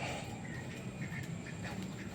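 Ducks quack repeatedly in short bursts, faint and somewhat distant, over a steady background hum.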